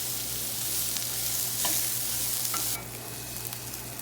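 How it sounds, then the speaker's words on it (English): Shallots and minced garlic sizzle in olive oil with ginger, giving a steady close hiss. A few soft stirring scrapes sound through it, and the hiss thins near the end. "Once golden brown, add in your shallots and minced garlic. Here is a little ASMR moment."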